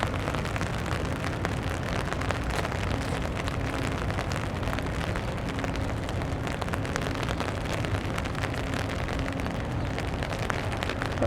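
Steady rain falls across downtown Toronto during a May 2025 city walk, a dense, even hiss of drops on pavement and surfaces that stays loud and unbroken throughout, with no talking.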